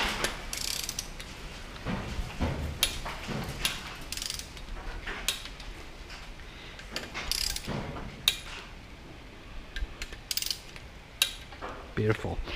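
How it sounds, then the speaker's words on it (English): A torque wrench tightens crankshaft main bolts on a Honda/Acura J35 V6 engine build, giving a run of sharp mechanical clicks and ratcheting bursts at close range with short pauses between pulls. "we're going to use a torque wrench for that"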